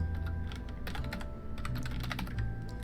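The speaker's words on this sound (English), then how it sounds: "you might actually hear me, like, typing and stuff" Fingers tap rapidly on a computer keyboard in irregular bursts of crisp clicks with brief pauses, close to the microphone and fairly quiet, with no one speaking.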